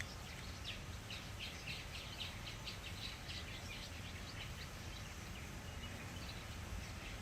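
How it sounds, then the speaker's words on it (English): Birds chirp outside on a waterfront marina balcony in Slidell, Louisiana: a quick series of faint, thin, high chirps early on over a quiet, steady outdoor hum. "I'm just enjoying listening to the birds chirp."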